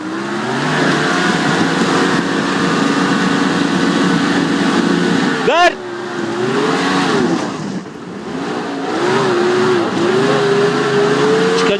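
An off-road vehicle's engine drones and revs steadily while climbing a hill on a rural off-road trip, loud and close throughout, with pitch rising and falling as the throttle changes.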